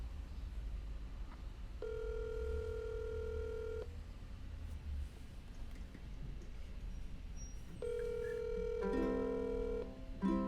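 Outgoing phone call ringing on the line, two long ringback tones spaced apart, followed by a burst of layered electronic beeps, fairly quiet over faint background hiss.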